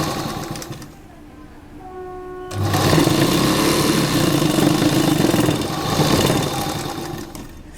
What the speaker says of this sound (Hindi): अब हम ये पूरी सिलाई किनारे से एकदम इसको फोल्ड करते हुए लगा लेंगे।